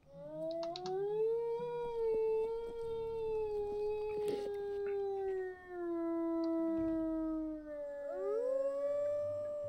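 A wolf in the video game WolfQuest lets out one extremely long, wavering howl that carries loud and clear for the whole stretch. A second howl joins near the end, over faint game background sounds.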